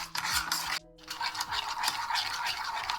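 Macaroni salad ingredients and sauce being stirred and scraped in a bowl, a steady close rubbing and scraping rhythm with a brief pause partway through, no talk.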